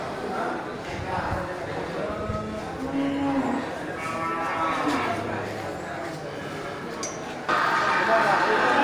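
Several Indian water buffalo low at a cattle market, giving drawn-out moos over crowd chatter and someone talking, with a louder surge of noise near the end.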